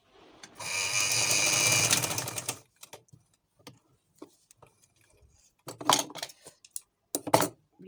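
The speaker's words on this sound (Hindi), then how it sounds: "ये इसकी फिटिंग की सिलाई।" A sewing machine runs a fitting seam on a newborn baby frock, buzzing steadily for about two seconds, then falling to scattered clicks and handling taps before two more short stitching bursts, close and without speech.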